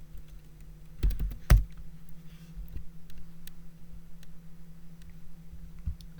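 Keys click on a computer keyboard as a search term is entered into a browser add-ons page, giving sparse, close taps with a couple of louder strikes.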